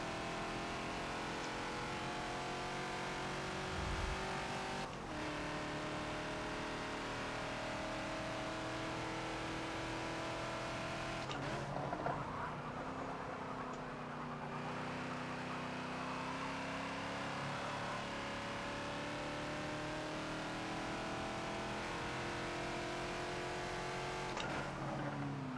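A Ford Falcon XB at full throttle on Silverstone in the Forza racing game, its engine droning steadily with rising and falling harmonic pitch sweeps across a continuous, moderately loud run with no talk.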